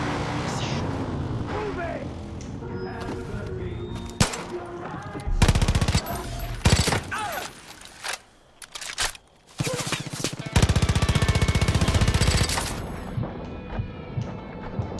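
Gunfire in the video game Far Cry 5: bursts of automatic fire and single loud shots, mixed with vehicle noise, while a player talks over the action.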